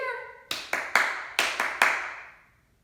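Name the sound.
children echo clapping a rhythm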